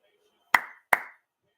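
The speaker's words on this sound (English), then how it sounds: "I guess I'm supposed to clap." Two sharp hand claps about 0.4 seconds apart, close and fairly loud, each ringing briefly, with silence before and after.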